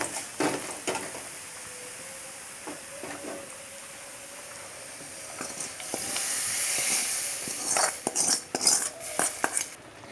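Asafoetida tempering poured into papaya curry after the gas is switched off: quiet utensil clinks at first, then a brief rising hiss and sizzle with a few sharp spoon and pan knocks, close by.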